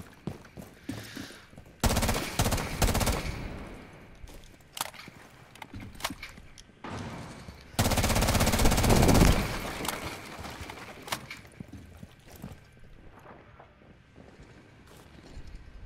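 Bursts of automatic gunfire during a video game shootout, two long loud volleys with scattered single shots and quieter rattles between them, all close and without talk.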